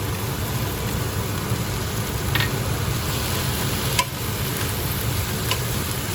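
Bok choy and oyster mushrooms sizzle in a hot stir-fry pan, a steady dense hiss with a few faint utensil clicks and no voices.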